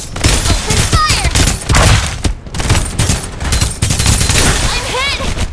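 Rapid bursts of gunfire in the battle-royale video game Farlight 84, dense automatic fire with sharp shots rattling almost continuously, a brief pause midway, loud and close.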